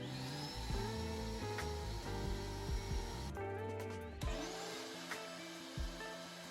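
A Craftsman 5-gallon shop vacuum, model CMXEVXA18115, with a slitted exhaust, runs with a steady droning whine and shifting hum, briefly dipping midway before resuming, close and alone.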